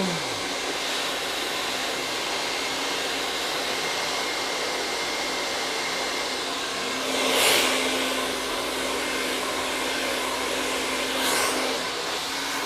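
A hair dryer blow-drying curly hair gives a steady, close whir that runs throughout, with a couple of brief louder gusts partway through.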